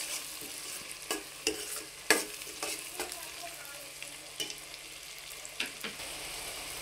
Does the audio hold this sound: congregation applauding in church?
no